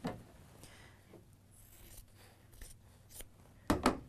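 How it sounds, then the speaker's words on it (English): Scissors snip through layers of quilt fabric in a few quick cuts, near and fairly faint, with quiet rustling between and a sharper pair of closing snips at the end. "Again, I can trim away those underneath layers."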